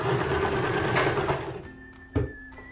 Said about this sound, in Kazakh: Лапканың бойынан 1 сантиметр қылып, осылай әр кезде үстіп қарап, мына астыңғы сборкаларын біркелкі ұстаймыз да тігіп шығамыз.